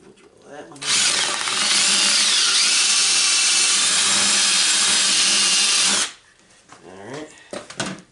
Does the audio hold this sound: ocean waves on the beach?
no